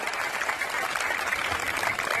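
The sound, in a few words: audience clapping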